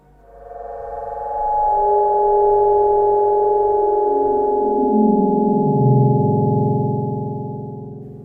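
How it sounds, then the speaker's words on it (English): A Minecraft cave ambience sound, the delayed echo of a minecart crash, rings out as a smooth tonal drone. Its layered pitches slowly glide and bend, swelling in, holding, and fading at the end, with no talking. "The delayed echo of the minecart crash is heard throughout the cave."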